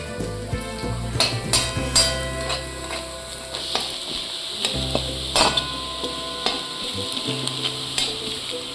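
Chopped onion browns and sizzles in hot oil in a pan, with loud scraping stirs and clinks of a spoon against the pan over a constant frying hiss.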